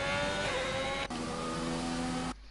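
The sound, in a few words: racing car engines in a racing video game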